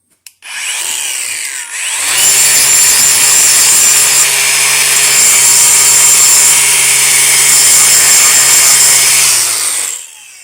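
An angle grinder grinds a metal wiper motor linkage part flat on a Ford Econoline. A short tap comes first, then a loud, close, steady whine with a harsh rasp that lasts about eight seconds before it stops.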